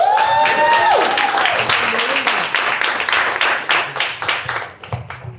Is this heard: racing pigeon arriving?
no